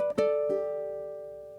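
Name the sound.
ukulele blues lick with triplet hammer-on pull-off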